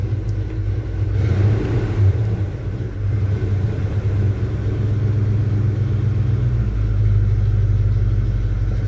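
A 1984 Chevrolet truck fitted with a 350 engine and four-speed backs up, its engine holding a steady low rumble with a slight rev swell early on, close and continuous.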